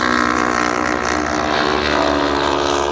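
A racing motorbike roars past on the straight at East Fortune circuit, its engine loud, close and continuous, with the pitch dropping as it passes.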